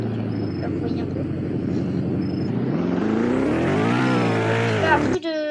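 A purple car speeding in the vehicle-showcase game Valmoria, its engine droning steadily and rising in pitch as it accelerates past 200, loud and close, with a voice talking over it before the sound cuts off abruptly.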